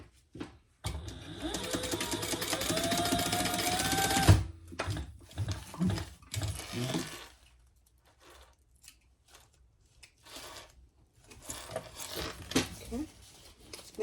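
A sewing machine stitches crossbody bag pieces together, a steady whirring run for several seconds, then short stop-start bursts as the fabric is guided, with people talking quietly in between.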